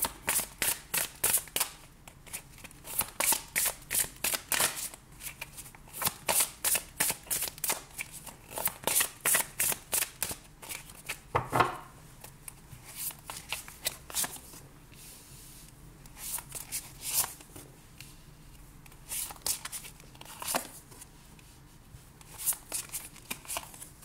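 Tarot cards being shuffled for a reading, heard as repeated quick riffling bursts in fairly regular rhythm, close and moderately loud, with short pauses and a single sharper tap midway.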